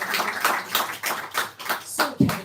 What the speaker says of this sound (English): join me in giving him a huge welcome and round of applause